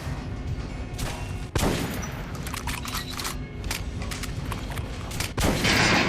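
Rapid gunfire from a first-person shooter bursts against an armored enemy in Metro Last Light, sustained loud volleys with sharp cracks and heavier impacts near 1.5 and 5.4 seconds, no talking.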